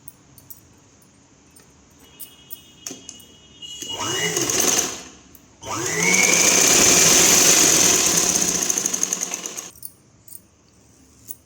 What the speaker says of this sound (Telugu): అలాగే షోల్డర్ దగ్గర నుంచి ఇలా తీసుకొని ఇలా ఒక స్టిచ్చింగ్ అయితే వేయాలి.